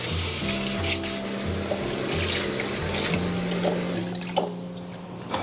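Water runs and splashes steadily at close range as blanched pork, boiled with ginger, scallion and rice wine, is rinsed clean under a tap. A low hum sits underneath and there are occasional drips and knocks, with no talking.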